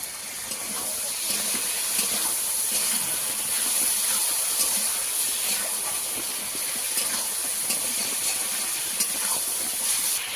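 Water splashed into a hot pan of spiced turmeric masala hisses with a broad, steady steaming sizzle that holds at an even level throughout, with no talk over it.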